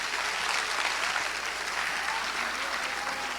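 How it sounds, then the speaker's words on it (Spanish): Dense, steady applause from a church congregation praising the Lord during a Spanish-language sermon, a continuous wash of many hands clapping without pause throughout. "Un aplauso al Señor."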